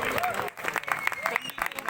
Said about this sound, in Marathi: जोरदार टाळ्या होते थँक्यू